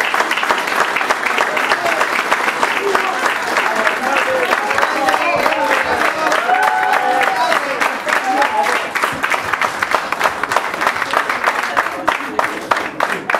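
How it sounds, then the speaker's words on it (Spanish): Audience at a municipal candidacy presentation applauding candidate Sergio with dense, sustained clapping. The applause stays steady and loud throughout, and crowd voices murmur faintly beneath it. "Un aplauso para Sergio."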